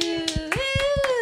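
A few hands clap in irregular bursts beneath a steady sustained tone that rises in pitch partway through, at moderate loudness on a comedy podcast.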